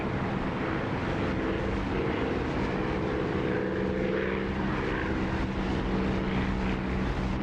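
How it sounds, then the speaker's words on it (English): Propeller aircraft engine in a flight simulator game, a steady, loud droning hum with a constant pitch that holds unbroken from start to finish, with no voices over it. "I really do recommend that you get this engine sound."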